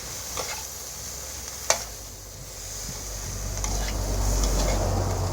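Cabbage and egg stir-fried in a pan over a gas flame: a steady close sizzle with a spatula scraping and tapping the pan now and then, the frying growing slightly louder toward the end.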